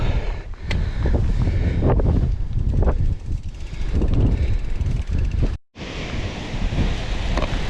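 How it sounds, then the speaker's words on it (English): Strong wind roars across the microphone on Derwent Edge, a loud continuous buffeting rush with gusts, briefly cutting out near the end before resuming. "It is so windy."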